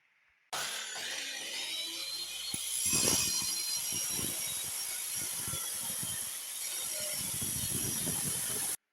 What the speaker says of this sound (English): Stick the puller on top of it, wind the puller in, and should act like a scissor jack.